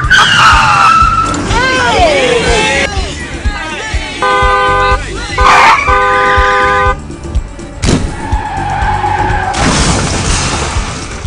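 Tires screech in sharp skids amid a revving car engine, with repeated horn honks and people shouting over the loud, chaotic driving noise.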